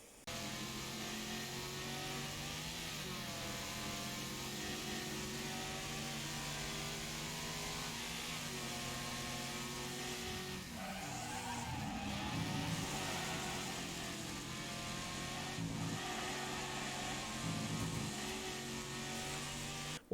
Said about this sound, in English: I'm pretty sure that I'll actually out-accelerate him on this straight